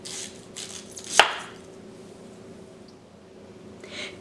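A knife slices through the end of a yautía root on a board, one crisp close cut standing out against quiet background hiss, with faint handling noises around it.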